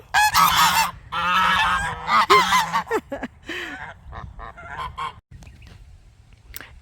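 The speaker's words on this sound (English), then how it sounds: "Oh, and the geese saying hello." Several geese honk loudly and close by in a noisy burst, calls overlapping, then fading into quieter outdoor background.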